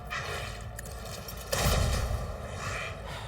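Gunfire from shooting in Warhammer 40k: Rogue Trader, a single loud burst around 1.5 s that rumbles on briefly over a steady game backdrop.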